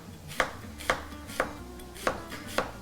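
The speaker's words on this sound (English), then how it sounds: "we'll slice them thin, not paper thin" A knife slicing potatoes thin on a cutting board, five or six crisp, evenly spaced chops about half a second apart, close and clear over a low background hum.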